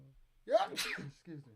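A single sharp sneeze from a person in a live music session, close and clear, followed by a brief spoken apology.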